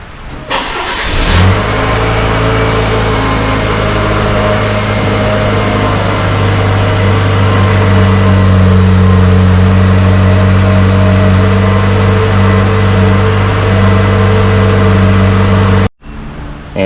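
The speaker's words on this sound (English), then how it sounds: "start the truck up." A GMC Canyon pickup truck engine cranks, fires up and settles into a steady loud idle with a deep, even drone and slight rev rise, recorded close with no talking.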